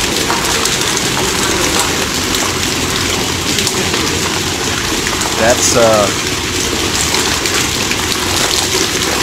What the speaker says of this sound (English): Water is pouring out like a river.